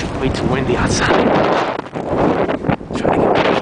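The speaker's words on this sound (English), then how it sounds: "Way too windy outside." Strong winter storm wind roars and buffets the microphone outdoors in New York City at night, a loud continuous rush with gusts, with a voice talking briefly over it.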